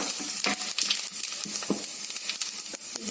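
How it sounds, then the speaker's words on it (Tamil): Cumin seeds fry in hot oil in a pan for jeera beans rice, giving a steady close sizzle broken by scattered little pops and crackles. No one speaks. "இப்போ இதில் கொஞ்சம் ஜீரகத்தையும் போட்டு ஜீரகம் போட்டு நல்லா பொரிய விடணும்"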